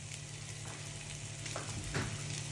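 Mixed fried rice made with long-grain biryani rice frying in a pan, a steady low sizzle running throughout with a few soft stirring scrapes, alone without talk.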